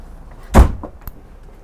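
A Prevost luxury coach door swings shut with one solid, close thud, trailed by a softer knock and a faint click in an otherwise quiet interior.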